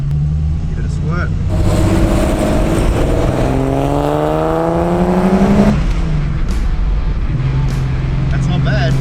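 A 1970 Ford Capri engine is revved hard nearby, its pitch climbing steadily over several seconds before dropping back to a rough idle, with people talking over it.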